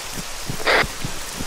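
Rain in Arma 3 patters steadily on a surface, with a few heavier drops tapping and a brief hissing burst in the middle.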